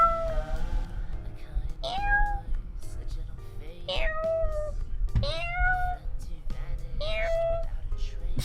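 A person vocally imitates a cat's meow, giving several drawn-out, rising and falling meows spaced a couple of seconds apart, close and fairly loud over a steady background hum.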